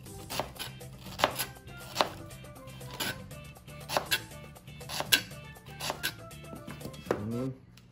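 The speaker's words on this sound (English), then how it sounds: "Just start slicing this up here." A knife slices an onion on a board in a series of firm, close chops at an uneven rhythm, with a faint hum underneath and a brief scrape at the end.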